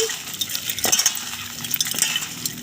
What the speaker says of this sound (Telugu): ఇప్పుడు ఈ చింతపండును కూడా ఇందులో వేసుకోవాలి బాగా అయితే నలిపేసేయాలి